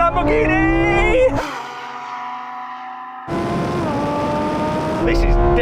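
A Lamborghini Huracán Sterrato accelerates hard in a drag race against a Porsche 911 Dakar, its engine note climbing loudly through the revs, dropping briefly at a gear change, then surging again close up.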